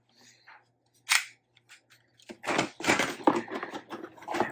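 Packing tape on a cardboard Nerf Fortnite toy box is cut and pulled free, with a sharp rip followed by a run of crackling, scraping tape and cardboard noises close by.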